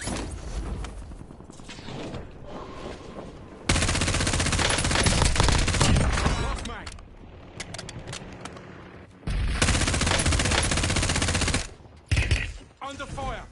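Heavy automatic gunfire from a Call of Duty game, two loud sustained bursts of rapid shots with quieter mechanical clatter between them and a sharp crack near the end.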